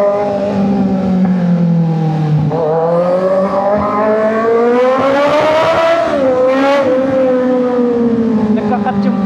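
Kawasaki Z900 motorcycle with a full system exhaust, throttle being twisted hard: a loud, continuous engine note that dips, then climbs and swells in pitch before easing back, close and steady throughout.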